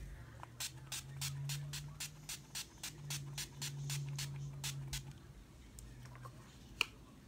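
A rapid series of short, crisp bursts of Urban Decay Chill makeup setting spray, about a dozen in a row, close by, with a faint low hum underneath and one sharp click near the end.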